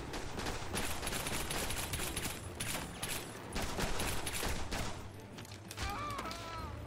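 Gunfire in the Jason Bourne video game comes in dense, rapid bursts over steady game noise at a low level, with a brief voice near the end.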